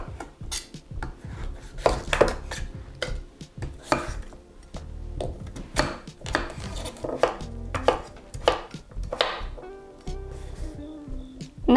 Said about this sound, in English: Let's flip the butternut squash over and just chop like this.